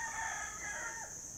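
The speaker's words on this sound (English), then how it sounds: "You can hear the cock crow" A rooster crows faintly in the distance at a Buddhist temple in Chiang Mai, its call rising over a steady background hum of birds or insects.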